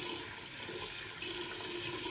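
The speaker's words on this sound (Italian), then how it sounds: "Si fa arrivare l'acqua calda," Hot water runs continuously from a tap in a steady, close rushing stream, ready for softening a hard shaving soap.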